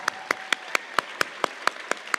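A small audience at a Canadian national literary finals claps briefly for a judge being introduced, the sharp claps landing in a steady, fairly even rhythm close by over quiet room noise.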